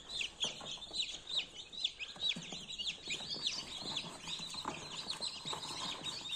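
Newly hatched chicks in a 72-egg Teplusha Lux incubator peep and chirp continuously, many small high-pitched calls overlapping at close range with soft clucking bursts.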